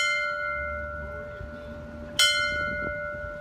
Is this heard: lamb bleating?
no